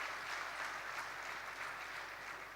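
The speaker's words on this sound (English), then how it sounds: "another, hand of claps for, Mohan for doing this in such a manner" A tech summit panel audience in Bengaluru claps for a speaker, an even wash of applause heard from a distance, steady and unbroken throughout.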